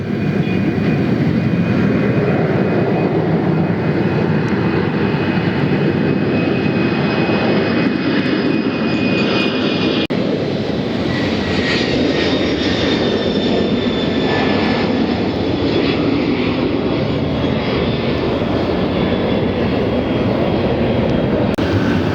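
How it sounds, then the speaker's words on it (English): A FedEx Boeing 767-300 jet departs Memphis bound for Denver, a loud continuous roar of heavy jet engines with a whining tone, swelling steadily throughout with no talking. "FedEx 529 now heading over to Denver in another Boeing 763"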